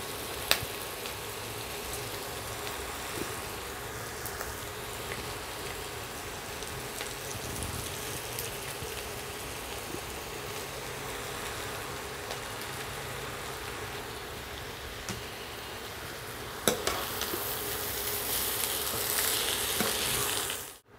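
Boiled noodles frying with onion in a pan, a steady even hiss of sizzling oil that holds for a long stretch, a sharp knock near the end, moderately faint and close, with no voices.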